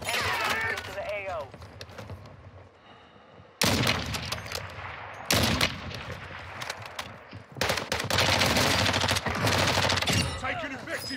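Warzone 2 firefight in Vondel Park: dense bursts of close gunfire come in clusters after a quieter lull, mixed with game voice callouts and player chatter.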